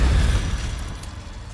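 A single loud Confringo blast in Hogwarts Legacy, a deep booming burst that decays into a rumbling tail.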